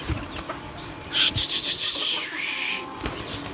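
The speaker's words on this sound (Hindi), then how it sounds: "चलो इसको हम खुद उड़ा देते हैं, ये नहीं उड़ता तो।" A small pet bird from a home mini-bird setup beats its wings as it takes off, giving a close, brisk burst of several papery flaps lasting about a second, then fading into soft rustling and quiet room noise.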